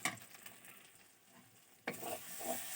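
Spices being stirred and sautéed with fried koi fish, ahead of adding bottle gourd: soft sizzling in a pan with scraping stir strokes, quiet and close, with a sharper burst of sizzle partway through.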